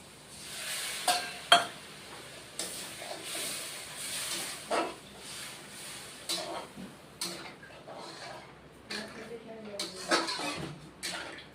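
Water poured into a hot pan of potato and paneer for aloo paneer posto, giving bursts of hissing sizzle and clatter, close by, with faint talk in the background.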